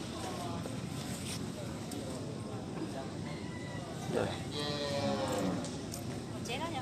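Large cattle at a cattle market in Bảo Lâm district, Cao Bằng province, with a couple of drawn-out lowing calls over busy market background noise and nearby voices.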